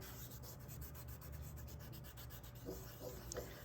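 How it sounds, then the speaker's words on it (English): A finger pressed hard and rubbed over oil pastel on paper, blending colour for a Starry Night drawing; a steady, close, soft scratchy rubbing continues throughout with no talk. "I'm pushing pretty hard and I'm just gonna rub it to kind of fill it in."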